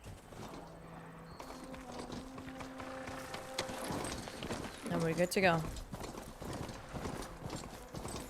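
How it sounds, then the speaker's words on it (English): Horse hooves clip-clopping in the video game Horizon Forbidden West, a rhythmic trot under game music and effects, with someone speaking briefly over it. "Just need a horse."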